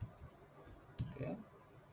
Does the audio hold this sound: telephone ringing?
no